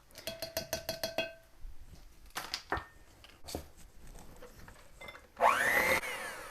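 An electric mixer blending eggs and vanilla paste into batter, with a run of quick clicks and taps, short whirring bursts, then a steadier mixing whir near the end.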